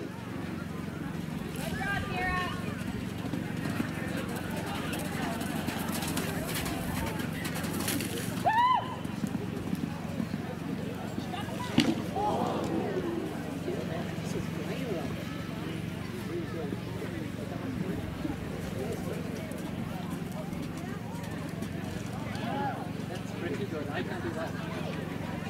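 Horse hooves thud in a show-jumping ring as a gelding takes tight corners, a faint steady clip-clop under continuous commentary with a short whinny-like cry partway through.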